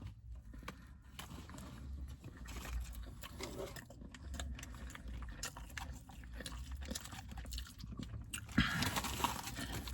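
A fast-food pulled pork sandwich on a sesame bun is bitten and chewed close up, with soft, moist mouth sounds and quiet smacking running throughout.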